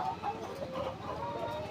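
Chickens cluck on a poultry farm beside a fish pond, several soft close clucks and murmurs overlapping in an irregular run over a low background hum.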